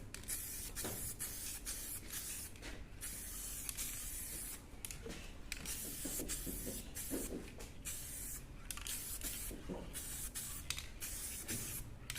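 Aerosol spray paint hisses in repeated bursts onto the alloy wheels of a Land Rover Discovery 2 Td5, coating them silver, each spray steady and close with brief pauses between passes.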